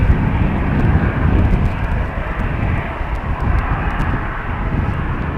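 A Singapore Airlines Airbus A350 taxiing toward the runway threshold at Amsterdam Schiphol gives off a loud, steady jet-engine rumble and roar, continuous and fairly close, with no voices heard.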